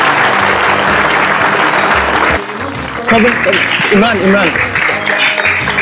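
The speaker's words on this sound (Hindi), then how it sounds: "जोरदार तालियां प्लीज" A studio audience applauds Emraan Hashmi and Prachi Desai at a televised stage event: loud, steady clapping throughout, with a voice and bright musical tones rising over it in the second half.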